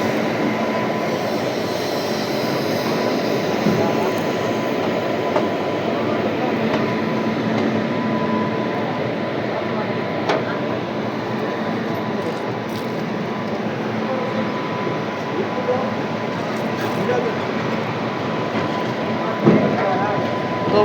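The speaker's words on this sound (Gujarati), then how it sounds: "એક સાથે ભાઈ 2 ટ્રેનના ડિપાર્ચર એક સાથે એક સમયે ભાઈ." Two passenger trains, the Veraval-Bhavnagar and the Porbandar-Rajkot, pull out of a station together, giving a steady broad rumble of rolling wagons with faint wheel clatter and distant voices throughout.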